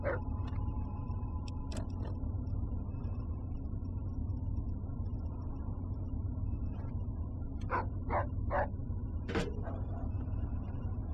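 A dog in the video game Fallout 3 gives several short, sharp barks and yips in a quick cluster near the end, moderately close over a steady low game ambience, with no talk during it.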